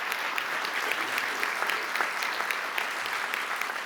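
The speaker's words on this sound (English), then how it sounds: "So you can give yourself a big round of applause for that." A commencement crowd gives steady, continuous applause, many hands clapping at an even level with a few sharper claps standing out, no talking over it.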